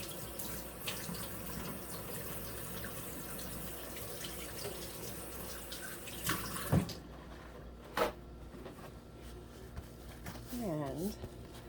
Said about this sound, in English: I'm going to wash my hands and get those egg off of my hands.